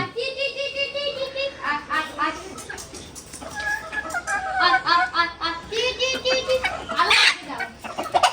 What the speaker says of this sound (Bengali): তিনটা মুরগি